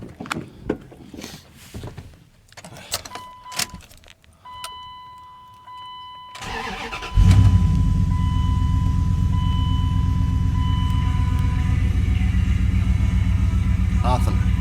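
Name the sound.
Dodge Ram truck engine starting and revving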